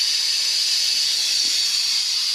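Hissing release of pressure from shop air compressor lines, a steady loud bright whoosh of escaping air that continues unbroken and close throughout.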